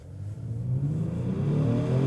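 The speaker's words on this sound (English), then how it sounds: "we will just put it in sport mode, and we're just gonna slam the gas from 0" A 2020 Genesis G70 3.3T twin-turbo AWD in sport mode launches hard from a standstill, its engine note climbing steadily in pitch and loudness as it accelerates, close and continuous with no talking.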